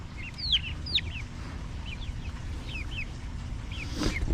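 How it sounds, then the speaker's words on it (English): Several farm chickens cluck and squawk while fighting over a big worm, giving repeated short calls in quick bursts close by over a low background hum, with no talking. "One of the chickens has something that looks delicious. It looked like a big worm"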